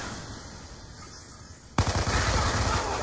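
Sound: gunfire in Black Ops 2 video game

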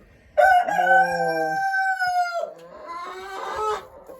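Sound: chickens and roosters

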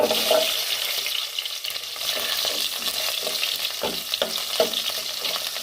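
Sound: asafoetida and small shallots frying in a pot for sambar

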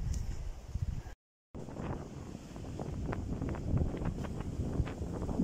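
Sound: strong wind by the Baltic Sea

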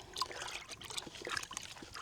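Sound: stirring liquid in a bucket

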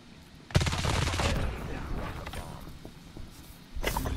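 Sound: gunfire in Call of Duty Mobile video game

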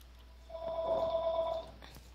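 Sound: telephone ringing

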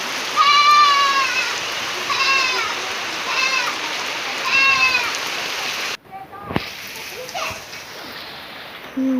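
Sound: heavy rain falling

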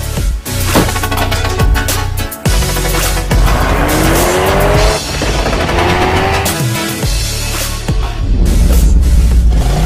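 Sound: Ford Focus ST accelerating hard in performance test

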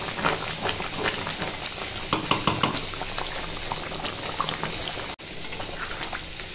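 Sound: chicken meat curry cooking and simmering in a pot

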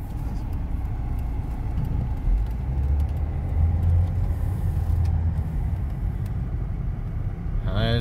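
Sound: Volvo five-cylinder turbo diesel car driving

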